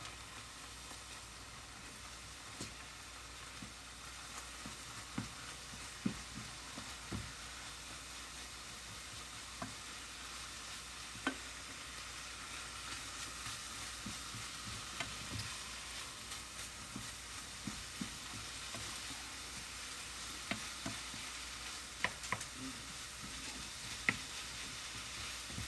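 Ground beef sautéing in a pan for quesadillas, a steady soft sizzle running throughout with scattered light scrapes and clicks of stirring, fairly quiet and without any talk.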